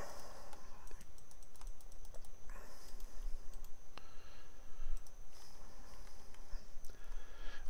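Rapid computer mouse clicks while working in an Unreal Engine 4 Minecraft-style block-placement project, crisp and close, coming in quick bursts and runs of repeated taps with no talking.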